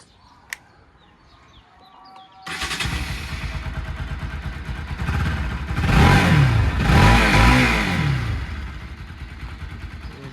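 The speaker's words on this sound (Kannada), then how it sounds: "199 cc ಬೈಕ್ ಇದು BS4 ಮಾಡಲ್" A black Bajaj Pulsar NS200 motorcycle, a 199 cc BS4 model, idles quietly. Around two and a half seconds in, its engine rumbles up loudly and close, then swells through a couple of strong revs before easing back to a steady roar.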